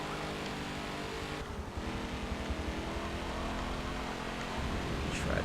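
Race car engine at full throttle in the Forza Motorsport 7 racing game, a steady droning roar that swells slightly near the end, no talking.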